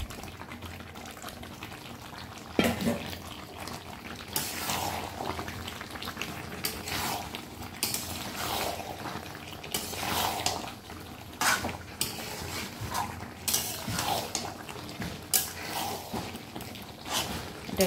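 Potatoes and pre-fried jackfruit go into a pan of cooked-down spiced oil. A soft, continuous frying bubble sits under repeated clanks and scrapes of a utensil against the pan.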